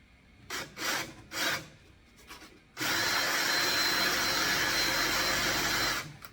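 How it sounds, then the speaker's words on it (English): A power drill bores through a spot weld on a Datsun Z frame rail. A few short bursts come first, then a loud, steady, close metallic grind that runs for several seconds with nobody talking. "First I'm going to drill it all the way through."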